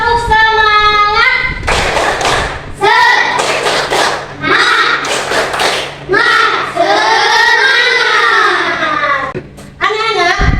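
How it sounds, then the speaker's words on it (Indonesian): A class of children doing the Indonesian 'tepuk semangat' chant: loud, close bursts of rhythmic group clapping mixed with shouted, sung-out young voices, in several rounds over about ten seconds. "kita tepuk semangat dulu yuk"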